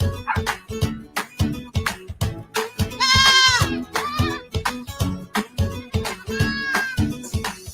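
Goats bleat at an agricultural show in Bermuda, several wavering calls rising over a busy crowd with regular thumping noises throughout.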